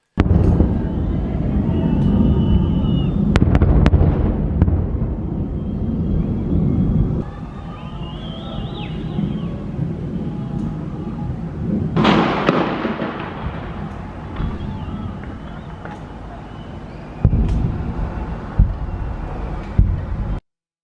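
Rockets fired by Palestinian militants, sounding like fireworks: repeated loud bursts and booms with crackling tails over a rumbling background, a sharp whooshing rise near the middle and more bangs toward the end.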